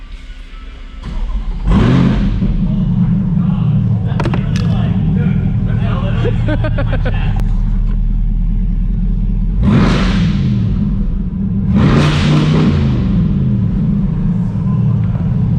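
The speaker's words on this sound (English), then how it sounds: "You want me to fire it up and you stay in here?" A Chevrolet C8 Corvette with a loud exhaust fires up and idles with a deep rumble, then revs sharply in a few bursts close by, the engine dominating while people talk nearby.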